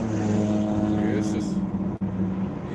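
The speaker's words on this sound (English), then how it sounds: "motorcycles are so loud" A loud motorcycle engine drones past with a steady low rumble, swelling slightly before easing off, with a brief clatter in the middle.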